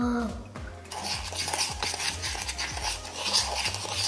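A mixture being stirred with a quarter teaspoon of water worked in, rapid repeated clinks and scrapes of a utensil against a bowl, close and busy, with no talking.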